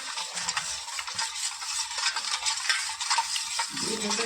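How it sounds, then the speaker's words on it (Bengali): A spoon stirs sugar into cold-water sherbet to dissolve it, a quick continuous swishing and scraping close by, steady and busy throughout with no voices. "3 চামচ চিনি। এটা ভালো করে গুলে নিচ্ছি।"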